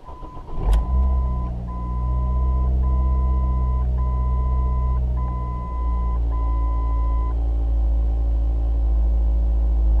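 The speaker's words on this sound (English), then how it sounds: "It's got the usual Ford rattles and vibrations. That's because it's at fast idle right now." A 2006 Ford Focus with 180,000 km idles fast at about 1500 RPM, a steady low engine drone with rattles and vibration heard from inside the car, while a repeating electronic chime beeps over it for several seconds.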